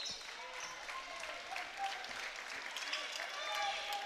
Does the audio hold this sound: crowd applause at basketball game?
yes